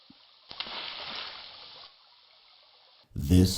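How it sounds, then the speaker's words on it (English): A small spring bubbling up from rocks and splashing into a lake in the King's Quest I video game, a faint steady trickle and splash of water, followed by a louder burst of sound at the end. "A small spring bubbles up from the rocks here and splashes into the lake."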